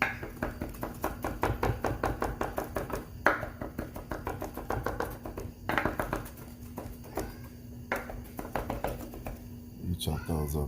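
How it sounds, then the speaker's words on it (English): A knife chops garlic on a cutting board in quick, steady taps that run throughout, close and clear, with someone talking over the chopping. "You chop those up real good"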